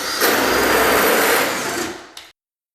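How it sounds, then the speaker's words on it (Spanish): A power drill with a standard 1/4 inch bit bores through cement board for a shower wall, a steady high whine lasting about two seconds before cutting off abruptly, loud and close. "Voy a usar una broca estándar de 1/4 de pulgadas y simplemente taladro el agujero."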